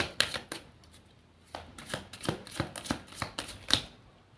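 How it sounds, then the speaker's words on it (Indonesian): Tarot cards being shuffled by hand in a series of crisp riffling and tapping bursts, close and fairly loud, with short uneven pauses and no talk. "Saya shuffle terlebih dahulu."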